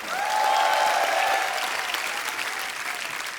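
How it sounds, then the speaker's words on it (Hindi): Television comedy show studio audience giving loud applause for a guest, many hands clapping in a thick burst that peaks early and slowly tapers, with a faint voice briefly over it. "सो जोरदार तालियां हमारे करण सर के लिए।"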